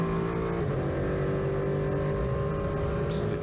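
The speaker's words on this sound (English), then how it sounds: "Absolutely gorgeous sound there from the cockpit of the Duqueine D08" Onboard cockpit sound from a Duqueine D08 prototype race car at Aragón, with a steady, loud engine drone sustained throughout and a brief higher burst near the end.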